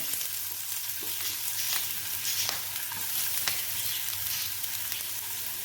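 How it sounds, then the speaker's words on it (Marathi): Chopped medium onion frying in a spoonful of hot oil in a pan for chilli bhaji, a steady close sizzle with a few soft stirring clicks and no talking. "आता आपण याच्यामध्ये पहिल्यांदा कांदा टाकून घेऊया"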